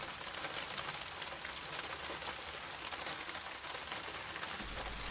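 Steady rain falls on a high hunting stand overlooking a meadow during the roe deer rut, a dense, even hiss of drops with no voices, constant and close throughout.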